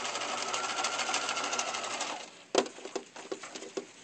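A sewing machine stitches a lapped zipper in a fast, steady run of close stitches, then stops and makes a few short bursts and clicks as the needle is sunk.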